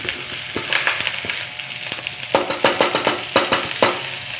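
Oil left from beef steak (bistek) sizzling in a frying pan while fried rice with egg is cooked, a loud close continuous crackle with sharp stirring scrapes and pops.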